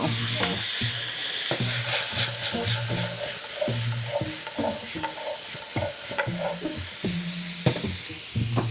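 Food being stirred in a pan over medium-high heat, with steady loud sizzling and frying hiss broken by regular scraping strokes of the utensil, close and continuous with no talking.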